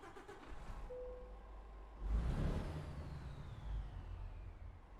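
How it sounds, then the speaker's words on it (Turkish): In Euro Truck Simulator 2, a truck engine cranks and fires up, then settles into a low, steady idle rumble with a slight rev. "Ee, arabamızı bir çalıştıralım."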